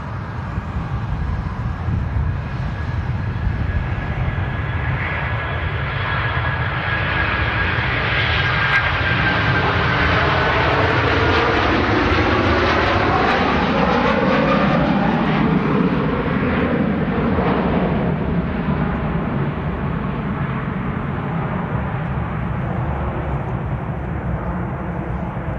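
Aer Lingus jet airliner departing Manchester Airport for New York JFK, a loud sustained engine roar that swells and rumbles past with a falling whine, heard alone over steady wind noise on the microphone.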